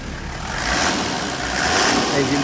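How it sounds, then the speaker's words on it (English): A Hino Liesse II truck's six-cylinder 1HZ engine idles steadily with a broad, rough rumble, loud and close, holding an even level throughout. "Engine sound."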